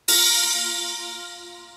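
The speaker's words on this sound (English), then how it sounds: "Mainly, the ones that are purely used for impact are this crash and this bell sound." A bright bell impact, with a crash cymbal in a music track, strikes once sharply and loudly, its shimmering metallic tones ringing on and slowly fading over nearly two seconds, alone.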